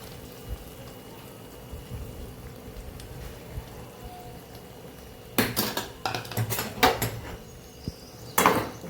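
A spoon scrapes and clinks against a pan while Kathiyavadi tindora and potato curry with lemon juice is stirred: quiet background at first, then a burst of metallic knocks and scrapes in the second half, close by with no voices.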